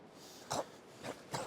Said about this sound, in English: That's it, cough it up